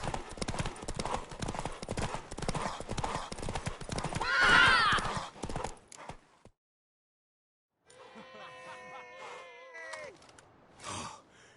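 Rapid hoofbeats of a galloping mare in a video game pound steadily, then cut to silence, followed by a loud horse whinny and snorting breaths.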